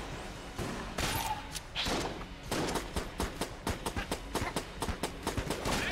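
Gunfire from the video game Enter the Gungeon pops in a rapid, rhythmic stream of sharp shots, dense and loud at first, then settling into evenly spaced bursts, with no talking.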